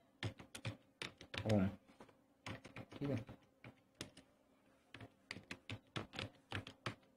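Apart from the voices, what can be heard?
typing on a computer keyboard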